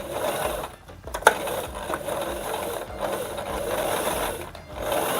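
A sewing machine stitches a sleeve onto a shirt body in steady whirring runs, its rapid mechanical chatter pausing briefly between bursts, with a sharp click in between.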